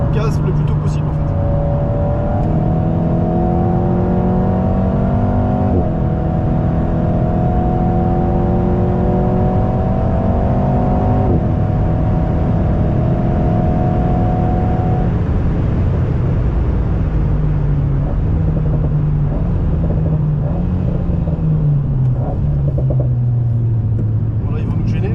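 Race car engine on the Magny-Cours circuit, revving through rising gear pulls then settling to a lower, steadier drone, loud and close inside the cabin, with a driver coach speaking French over it.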